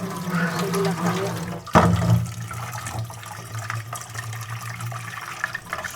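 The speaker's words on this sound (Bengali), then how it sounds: "তার জন্য সাগুটা ভালো করে ধুয়ে নিচ্ছি" Sago grains washed in water, with swishing and sloshing liquid, a brief louder splash, then quieter rinsing as a voice talks over it.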